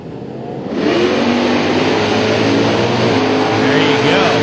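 Drag race cars, a Corvette and a 1999 Firebird, launch at Atlanta Dragway with a sudden loud roar of engines that stays heavy and sustained as they accelerate away, with announcer speech over it.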